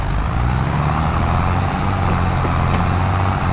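A John Deere 7710/7810 tractor in Farming Simulator accelerates toward top speed, its steady, loud engine drone holding close and continuous with a deep low rumble throughout.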